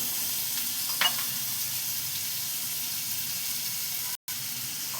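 Small cubes of salted potato fry in a pan with a bright, steady sizzle and crackle, close and continuous, broken only by a brief dropout near the end.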